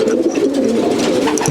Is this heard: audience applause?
no